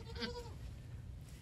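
A myotonic fainting goat, a nanny with newborn twin kids, gives a short bleat early on, then fades into steady background noise with no talking.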